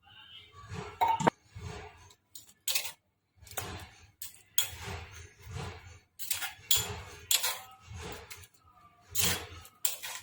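Chutney is scooped from a pan into a serving dish with utensils, making a string of close, irregular clinks, scrapes and taps of metal on metal with short pauses between them, and no voice over it.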